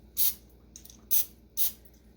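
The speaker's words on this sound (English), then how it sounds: "you can use some cooking spray like Pam and just spray the inside" Cooking spray such as Pam spritzed inside a measuring cup before adding honey for homemade bread: three short, close hissing bursts, each about a quarter second long, with quiet pauses between and no talking.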